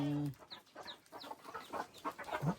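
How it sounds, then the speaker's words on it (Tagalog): A hen clucking beside a newly hatched chick in a farmyard, a series of soft repeated clucks and faint peeps that follow a brief burst of speech at the start. "may sisiw na to isa"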